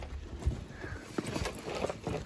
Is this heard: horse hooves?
yes